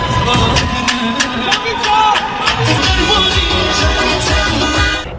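A street crowd cheers and shouts during celebrations in Iran, a loud dense roar of many voices with bursts of whistling and babble throughout.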